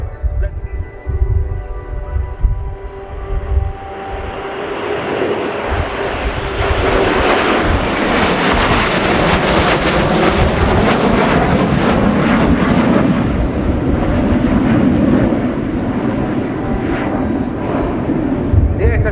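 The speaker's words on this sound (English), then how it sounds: "3 F-15E Strike Eagles of the US Air Force from the 494th Fighter Squadron of the 48th Fighter Wing" Three US Air Force F-15E Strike Eagles of the 494th Fighter Squadron, 48th Fighter Wing, fly past at the RIAT airshow near Lakenheath, Suffolk, a loud sustained jet roar building and sweeping through with rumble, with a commentator talking over it.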